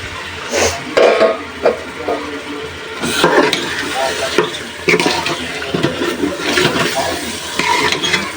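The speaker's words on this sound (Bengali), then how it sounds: "মশলা ভালোভাবে কষায় নিছি কলেজা গুলো দিয়ে দিলাম" Pieces of liver hit spiced oil in a pan and fry with an uneven sizzle, broken by repeated scraping and clattering as the curry is stirred. Background noise runs throughout.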